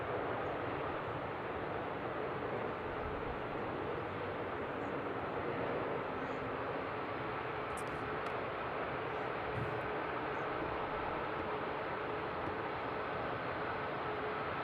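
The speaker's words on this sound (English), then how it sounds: "There it is, Virgin Atlantic. A330 from Heathrow." A Virgin Atlantic Airbus A330 arriving into Seattle from Heathrow, a steady broad jet roar holding at constant loudness throughout, distant and unbroken, with no voices over it.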